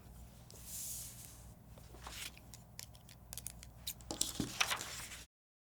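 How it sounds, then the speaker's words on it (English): Scissors snipping light blue construction paper into strips, a run of quick crisp cuts and paper rustles close by, growing louder toward the end before an abrupt stop. "we are going to take our light blue construction paper and cut it"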